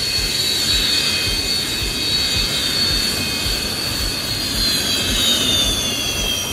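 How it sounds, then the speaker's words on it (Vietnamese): Sukhoi Su-30MK2 two-seat multirole fighter jets fly overhead during formation training, a steady, loud jet-engine roar with a high whine holding throughout, no voices. "Các tiêm kích Su-30 MK2 thực hiện nhiều bài tập như bay đơn,"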